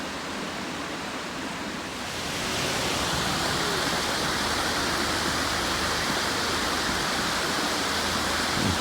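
Waterfall in Spearfish Canyon, a steady broadband roar of falling water that grows louder after a couple of seconds and holds constant, with no talking.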